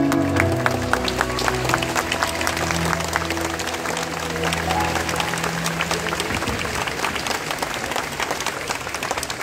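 Thunderous audience applause fills an academic ceremony hall, dense sustained clapping from a large crowd with music playing underneath for most of the stretch, steady and loud throughout.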